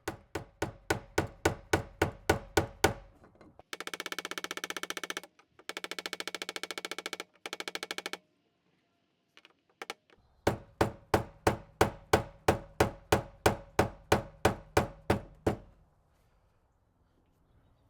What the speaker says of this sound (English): Then I finished setting the ring using hammer impacts.